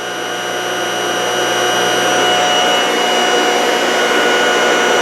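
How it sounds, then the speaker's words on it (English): A lab generator motor runs with a loud, steady whine and hiss from its stator, sounding close and constant without any voices. "Now if we can bring down the noise of that stator, then we'll be right."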